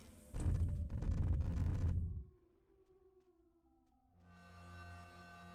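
Siren sound in a Gmod match against a Wendigo nextbot: a loud, dense blast runs for about two seconds, then falls to a fainter drawn-out wail with steady sustained tones that swell again near the end.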